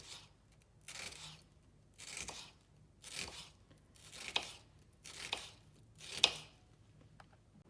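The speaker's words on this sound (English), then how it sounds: "And I just crushed my garlic." Dry garlic is crushed in a kitchen while a winter tagine is prepared, making about seven quiet crunching presses at a regular pace of roughly one per second. Close but soft, with no speech.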